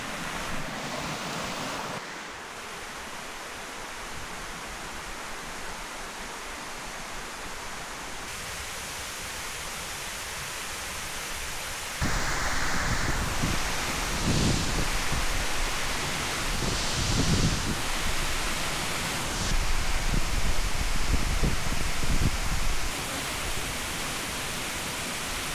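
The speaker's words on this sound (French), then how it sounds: "On commence à entendre la chute d'eau." A waterfall among the rice fields of Mai Châu, Vietnam roars with a steady broadband rush of falling water that swells louder in stretches, with wind buffeting the microphone.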